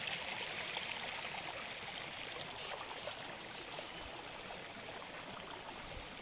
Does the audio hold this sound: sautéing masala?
no